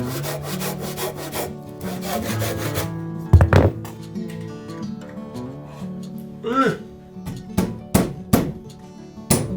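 A wooden piece, traced to fit a warped, uneven gap in an old mud-walled house, slid into place during renovation; wood scrapes and rubs loudly in bursts, with sharper knocks and thumps near the end.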